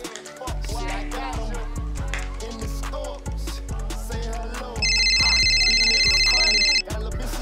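A mobile phone rings with a high, steady electronic warble for about two seconds, cutting in over a loud, booming hip-hop beat.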